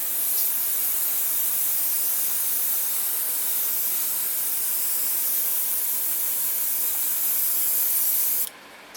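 Steady, continuous airbrush hiss as paint is sprayed onto a 1:72 scale Aoshima Kawasaki Ki-61-I Tei model aircraft, loud and unbroken for about eight seconds before cutting off abruptly near the end.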